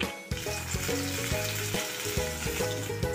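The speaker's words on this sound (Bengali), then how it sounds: "একইভাবে আমি বাকি মাছগুলো ভেজে নেব।" Close, continuous sizzling of fish frying in oil, with faint rhythmic scraping or tapping under the hiss.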